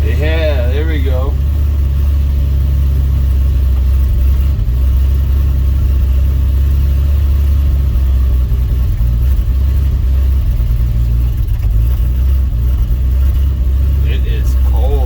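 A Dodge D100 truck's engine idles at night after a cold start, a loud, deep steady rumble close by, with a brief voice and a short squeal near the start and a faint one near the end.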